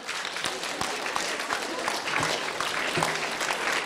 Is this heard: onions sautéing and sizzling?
no